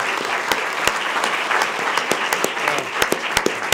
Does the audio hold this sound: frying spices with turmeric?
no